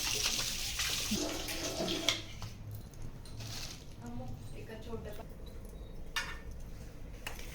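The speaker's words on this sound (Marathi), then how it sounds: "तर ह्याला मी परत एकदा धुणार आहे" Goat trotters are rinsed by hand in water, with splashing, dripping and sloshing close by and occasional clinks of a vessel, while a person speaks intermittently.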